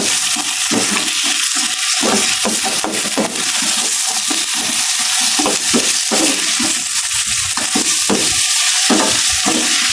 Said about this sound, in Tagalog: ito na po yung ating pinakuluang liempo. Ilagay na po natin. Sasangkot na po natin ang bahagya.